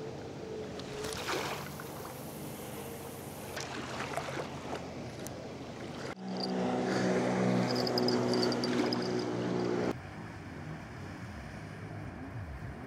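A motorboat passes on a city river during a fishing trip, its engine a steady broadband roar that swells loudly for a few seconds mid-clip and then drops back to water and wind ambience, with no talking.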